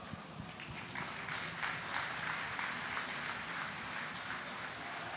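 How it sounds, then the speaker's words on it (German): Audience applause at a live Rocket League tournament stage event at gamescom, a steady dense wash of clapping filling the whole span at moderate loudness, with no talk over it. "jetzt einen großen Applaus für die Kandidaten unseres Alliance Rocket League Turniers"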